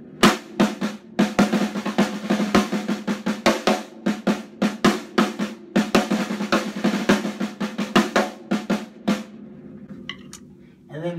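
A snare drum break with fast rolling strokes and quick bounced notes between accents, played alone and fairly loud, ending with a brief ringing tail.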